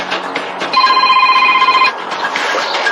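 A telephone rings loudly with a steady electronic trill for about a second, set against a busy doorstep background with indistinct voices before and after.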